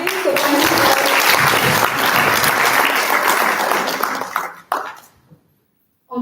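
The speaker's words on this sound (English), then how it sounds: "let's give a very big round of applause to Dal and Eva Yasmin." Loud audience applause after a panel introduction fills most of the clip, then fades out near the end, with some voices mixed in.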